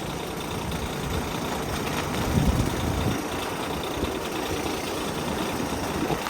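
A Vtrux Via Motors truck engine idles with a steady, rough low rumble and a faint knocking texture, swelling slightly midway before settling again.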